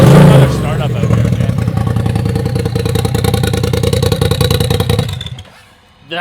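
A Polaris RZR XP Turbo with an MBRP exhaust fires up close by and settles into a loud, lumpy idle for several seconds before shutting off, with voices talking over the engine.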